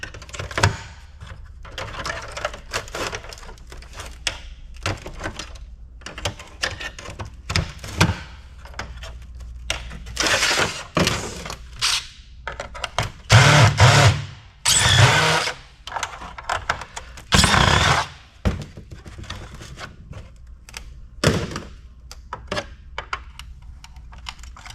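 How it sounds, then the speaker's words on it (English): Sandy, rusty screws are being unscrewed from an old PC, giving repeated scraping and grinding clicks with short louder bursts of ratcheting and metal scraping, close up and irregular. "Those screws are turning,"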